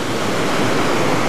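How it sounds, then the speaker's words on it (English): A waterfall pours down through a glen beside a cottage, a loud, steady roar of crashing water that fills everything with broad, unbroken rushing noise. "It is so loud here with the water crashing through."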